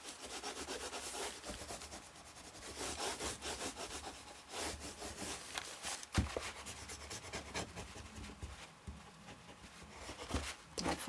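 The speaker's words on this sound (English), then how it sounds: "I'm just going to use the book itself to fold it, burnish it, and fold it back over." A book rubbed firmly along the fold of a manila folder, giving steady close scraping and rubbing strokes that continue without pause and with no talk.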